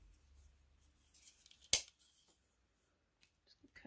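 Scissors snip once through gold paper at a craft table, a single sharp close cut followed by faint handling rustles, with quiet surroundings otherwise.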